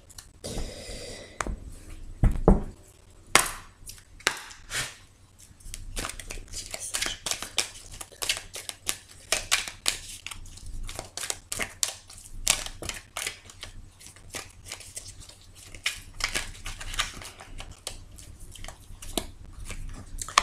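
A tarot deck is cut and handled for about twenty seconds, with a busy run of crisp card snaps, taps and papery rustles, close and fairly loud, and no talking.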